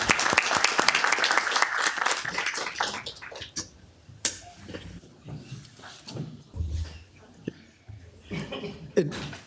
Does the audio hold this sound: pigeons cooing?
no